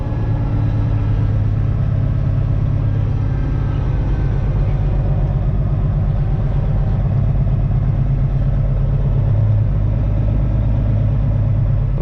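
Custom Peterbilt truck with straight pipes and an 18-speed transmission, running through gear changes, a loud steady deep engine drone and rumble that fills the whole stretch, heard from inside the cab with no talk.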